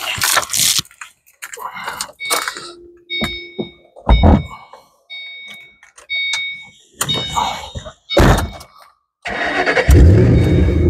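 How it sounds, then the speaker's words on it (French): A supercharged V8 in a 2006 Ford Mustang Saleen S281 blips and revs in short loud bursts between quiet gaps, with a thunk and a whining tone partway through, heard from near the dual exhaust at the rear. "Du V8. Du gros V8."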